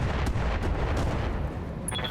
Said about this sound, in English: Mortar airburst, maybe.